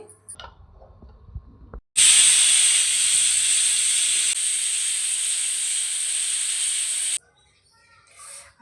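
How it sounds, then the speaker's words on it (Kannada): A pressure cooker on the stove, cooking head mutton sambar, lets out a loud, sustained hiss of venting steam lasting about five seconds before cutting off abruptly, with quieter kitchen noises before and after. "ಎರಡರಿಂದ ಮೂರು ವಿಜಲ್ ಕೂಗಿಸ್ಕೊತಾ ಇದ್ದೀನಿ"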